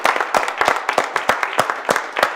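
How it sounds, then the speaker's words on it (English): Sparse audience clapping after a talk at a cognitive neuroscience conference, a handful of sharp, distinct claps in an irregular rhythm, close and clear, with no talking. "So everybody was clapping"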